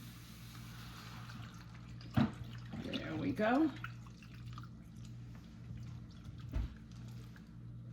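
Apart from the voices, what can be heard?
pouring bottled water into a pot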